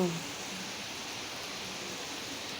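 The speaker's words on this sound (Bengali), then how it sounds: "দেখো আজকে কি বৃষ্টি পড়ছে।" Morning rain falling outside a home, a steady, soft, even hiss that holds at a low level without pause.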